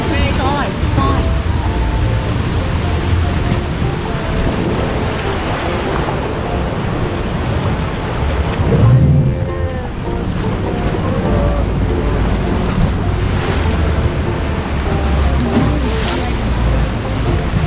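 Large waves surging and crashing against a rocky ledge on the Tasmanian coast, a loud continuous roar of churning surf with a heavier swell near the middle, heard close up alongside wind and boat-like rumble.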